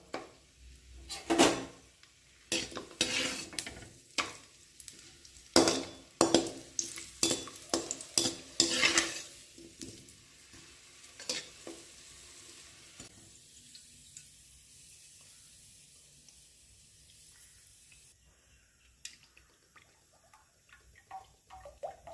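Onions frying in a pan while being stirred, with rapid scraping strokes and sizzle that are loud and busy for the first nine seconds, then ease into a quieter, steady crackle alone.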